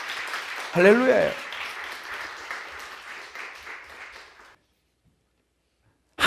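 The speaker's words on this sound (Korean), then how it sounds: "우리 축복의 박수합시다" A church congregation claps in blessing during a sermon, a steady round of applause lasting several seconds that stops abruptly into silence; a voice calls out briefly at the start.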